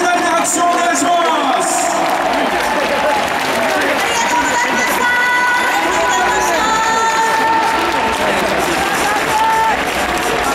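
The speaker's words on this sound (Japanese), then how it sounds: "会場の皆様、今一度盛大な拍手をお願いします。" A large crowd in a Tokyo Dome stadium at an American football X League championship game keeps up steady applause and cheering, loud and continuous throughout, with an announcer's voice carrying over it.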